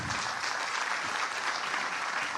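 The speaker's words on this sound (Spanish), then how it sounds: "un aplauso para Leonardo Padrón" A book fair audience applauds a speaker in a dense, even roar of clapping that stays loud and constant throughout, with no talking over it.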